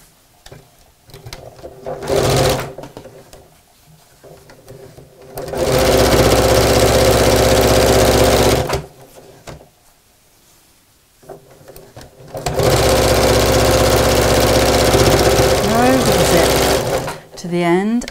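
A sewing machine stitches down the remaining side of a tote bag in two long, loud, steady runs, separated by quieter stretches where someone talks.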